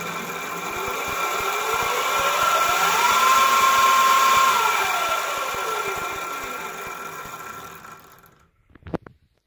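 An electric scooter with an upgraded transmission and a 1500 Super Turbo brushless lithium motor runs up to a steady whine, holds, then winds back down and stops, with a few light clunks at the end.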